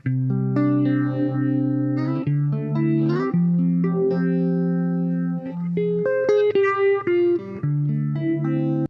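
An electric guitar plays sustained notes and chords through the phaser of a Donner Triple Threat pedal, the sweeping modulation steady and loud throughout with no voices.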